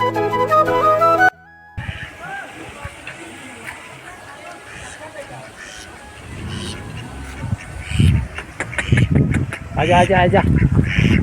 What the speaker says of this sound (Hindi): ये है यहाँ पे बतख वगैरह भी रखे हुए हैं।